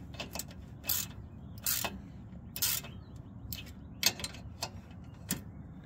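Someone works a hand ratchet on sway bar bolts of a Jeep Grand Cherokee WJ. It makes short bursts of crisp clicking repeated in uneven strokes about once a second, over a quiet garage background.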